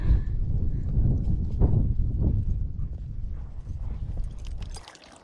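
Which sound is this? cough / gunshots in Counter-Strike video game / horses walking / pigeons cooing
horses walking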